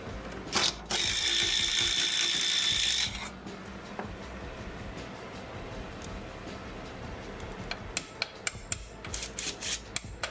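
A ratchet socket wrench works on a 1955 Chevy 3100 truck, starting with a brief loud burst of clicking and then settling into softer intermittent ratcheting clicks and taps, close and with no talk.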